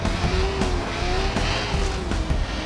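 A motorcycle ridden in the video game Watch Dogs, its engine a steady, continuous drone with a sustained pitched tone and occasional sharp clicks, holding at an even, fairly loud level throughout.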